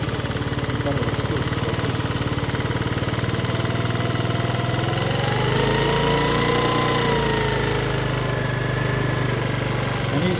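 A Lance Cabo scooter engine runs at a steady idle after starting, a continuous close mechanical chug with a slight rise in revs midway and no talking over it.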